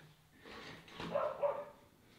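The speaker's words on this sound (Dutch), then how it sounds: "de hond van de buren zit buiten, hoor ik" A neighbours' dog barks outdoors, a few short yips and barks at a distance, fairly faint and muffled.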